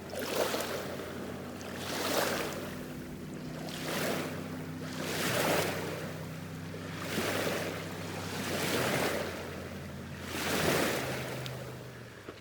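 Ocean waves roll onto a beach in slow regular surges, about six swells building and washing back, with a steady wind rumble underneath and no voices.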